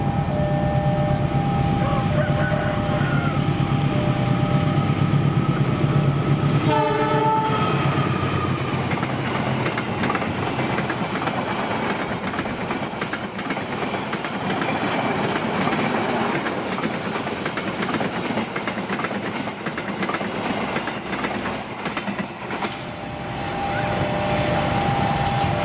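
A long-distance train rumbles steadily through a station on the Jatinegara line, a continuous loud roll of wheels and engine with a brief clanking burst early on, heard alone without talk.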